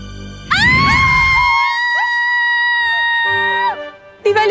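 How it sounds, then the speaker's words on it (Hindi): A woman lets out a long, loud, sustained scream at close range for several seconds, then breaks off, with a brief second cry at the end in a Hindi TV fantasy drama scene. "क्यों चिल्ला रही हैं आप?"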